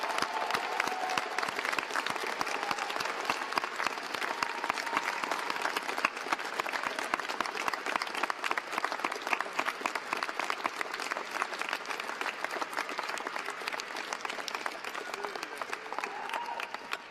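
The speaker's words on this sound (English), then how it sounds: "One last round of applause for friends and family who helped get you here" Graduation audience at a civil and environmental engineering celebration gives a long, steady round of applause, dense clapping filling the hall at full strength throughout with occasional cheers mixed in.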